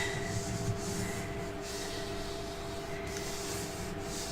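A paper album box edge is burnished with steady, continuous rubbing strokes, a soft close-up scraping hiss with a few faint rhythmic swells and no talking.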